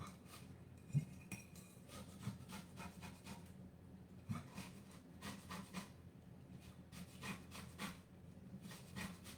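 An orange rubbed against a very fine zester, soft repeated scraping strokes in an irregular rhythm, quiet and close with occasional light clinks, no voices.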